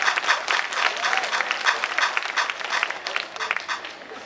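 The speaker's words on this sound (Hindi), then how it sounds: "तालियां बजाओ जिनको समझ में आए।" Audience applause at an anniversary gathering, a dense crowd clapping steadily throughout at fairly even loudness, with some cheering voices mixed into the clapping.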